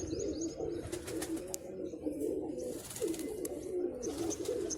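Several pigeons coo continuously in low, overlapping rolling calls, with a faint rustle and occasional sharper chirps.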